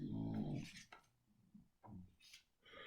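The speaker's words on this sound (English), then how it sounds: "my dogs are snoring" Dogs snore nearby indoors, a quiet series of rough, rhythmic snorts and breaths separated by short pauses.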